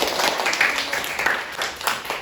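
Classroom applause after a student answers a quiz question correctly, a short burst of mixed clapping from a group, fairly loud and close, lasting about two seconds.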